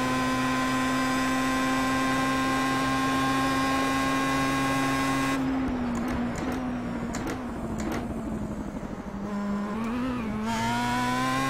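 A Star Mazda race car engine in a racing video game at Virginia International Raceway holds a steady high drone, then the pitch shifts and wavers as it changes gear, then climbs again.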